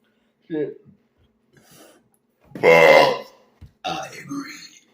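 A man lets out one long, loud belch midway, with brief throaty sounds and speech before and after it.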